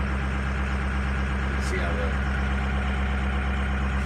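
A truck's diesel engine idles steadily after a cold start, a continuous low rumble running throughout while someone talks over it.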